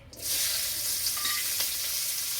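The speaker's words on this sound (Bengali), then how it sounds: "এই তেলে রান্না করে নেব। তেলে দেবো পেঁয়াজ" Onion drops into hot oil and a loud, bright sizzle bursts up, then holds steady and close, with faint stirring scrapes beneath and no one talking.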